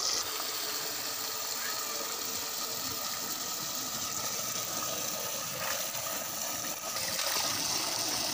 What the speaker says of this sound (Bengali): তো মাছগুলো সুন্দর করে আমি ধুয়ে নিতেছি।